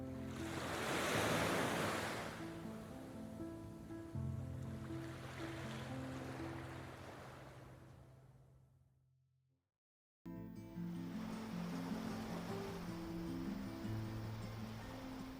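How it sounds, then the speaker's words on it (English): Ocean waves break on a beach at Tangalle, Sri Lanka, as a loud, broad rushing surge that swells and recedes. Wind buffets the microphone, the sound cuts out briefly, then the surf returns steadily. "Tangalle boasts waves reaching between 6 and 10 feet, creating a breathtakingly powerful scene."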